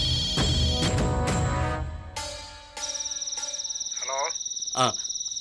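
A mobile phone rings with a repeating electronic tone, close and fairly loud, while a musical sting plays over the start.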